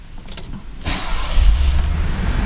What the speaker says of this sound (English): The car starts beautifully.